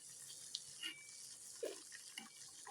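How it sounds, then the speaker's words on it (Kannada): An oil mixture with soaked rice bubbles in a pan over a medium flame for a homemade hair oil, giving faint, scattered pops and gurgles over a soft, steady hiss. "ಕುದೀತಾ ಇದೆ"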